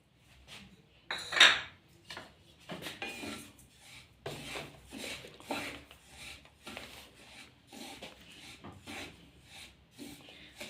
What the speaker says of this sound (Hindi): तिल को लगातार चलाते हुए हम इनको भूनेंगे।